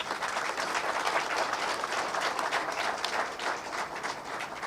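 An audience applauding at a public ceremony, dense sustained clapping from many hands, steady and moderately loud throughout, with no speech over it.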